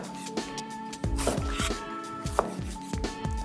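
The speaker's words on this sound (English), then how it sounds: "We start just with some tomatoes. Ripe tomatoes in season, of course, always best. And I'll just cut those into some fairly large wedges." A Chinese slicer cleaver cuts ripe, in-season tomatoes into large wedges on a board, giving a quick series of crisp, close knocks, about eight chops in a steady, slightly uneven rhythm.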